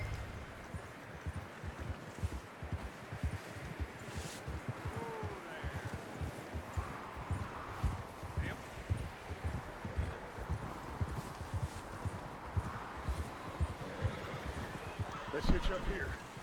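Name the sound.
horse hooves clip-clop, from video game Red Dead Redemption 2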